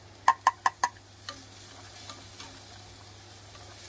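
Browning onions fry on an Ecoheat induction cooker set to about 1000 watts during tailgate camping. Four sharp clicks open the clip, then a soft, low sizzle continues with faint occasional stirring taps, close and without talk.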